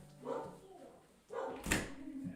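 A dog gives two or three faint, soft barks and yips at a distance, quiet and brief against a hushed indoor background.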